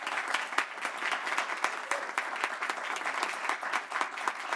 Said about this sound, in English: you're listening to that applause